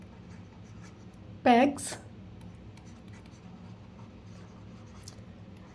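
A maths question is written out by hand: faint, continuous pen scratching on paper, with one short spoken word partway through.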